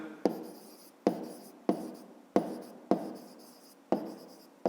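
Pen strokes from someone writing out the answer to a school maths problem on the perimeter of a rectangle by hand, heard as seven sharp, evenly spaced scratchy taps, each fading quickly, with no talking.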